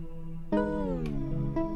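Granular pitch shifting on a Sonicware Liven Texture Lab drops a tonal texture down a fifth, with a sudden swell and a gliding slide in pitch over under two seconds.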